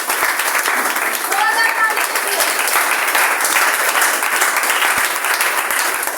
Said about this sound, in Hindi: डॉक्टर वी सिंह जी के लिए जोरदार ताली